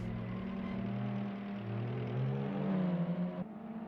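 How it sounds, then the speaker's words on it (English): A 1933 race car's engine runs again after a repair at the Eläintarhanajot street race, a steady mid-pitched drone that builds slightly before a brief dip near the end, loud and close with no talk. "I believe they'll be able to get the engine running."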